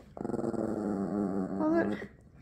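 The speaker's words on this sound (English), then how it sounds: "I know, there's the red dog." Dog growling up close, a sustained rumbling snarl that starts with quick pulsing bursts, holds steady, then rises in pitch before stopping abruptly.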